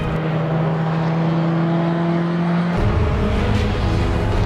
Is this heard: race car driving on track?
yes